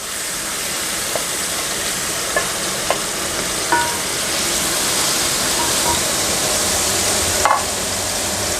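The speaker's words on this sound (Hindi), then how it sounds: "अभी मटन को मैं अच्छी तरह ब्राउन करूंगा, जब तक अच्छी तरह ब्राउन हो जाएगा दोनों साइड से।" Mutton leg pieces with their marinade masala browning in a pot give a continuous even sizzle, broken by a few soft clinks and scrapes of a spoon against the metal.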